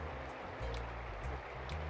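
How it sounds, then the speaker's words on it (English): Rushing water from a waterfall in the Pokémon Colosseum video game, a low, even, continuous wash that stays faint and steady with light periodic ticking above. "you see a waterfall."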